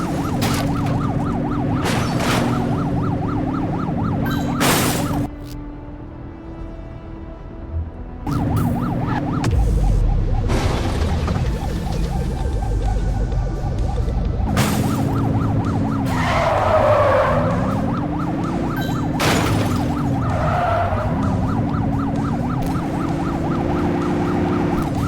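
Police car sirens wail in rising and falling sweeps through a high-speed pursuit in the video game The Precinct, with tires skidding and screeching over a loud, steady engine roar and a few sharp impacts along the way.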